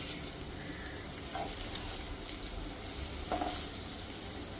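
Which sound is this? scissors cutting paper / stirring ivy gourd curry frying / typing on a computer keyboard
stirring ivy gourd curry frying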